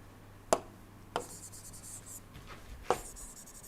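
Chalk or marker writing on a board during an engineering lecture on steam turbines: three sharp taps against the board, with soft scratchy strokes between them, close and alone without talk.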